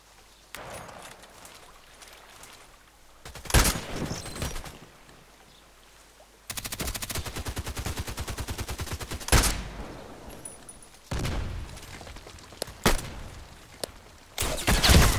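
Gunfire rattles through a Contract Wars match on the Lighthouse map: sharp single shots and bursts spread across the clip, including a long rapid string of automatic fire in the middle, with no talking.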